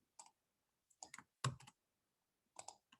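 Typing on a computer keyboard during coding, sparse clusters of crisp key clicks in short bursts separated by silent pauses, close and quiet.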